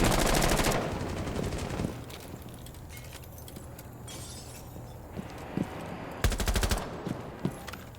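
Automatic weapon fire in a first-person shooter game replay: a loud rapid burst at the start, a quieter stretch with scattered shots, then another sharp burst near the end.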